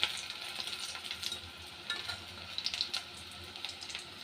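Potato chops fry in hot oil in a wok, giving a soft, continuous sizzle with scattered light crackles and pops, fairly quiet and heard without talk.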